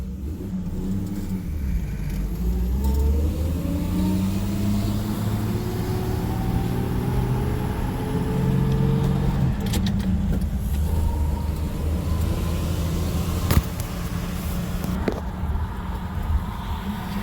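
A 1960 Chevy Biscayne drives along on a road, its engine note rising and falling through gear changes, loud and close, with a brief knock partway through.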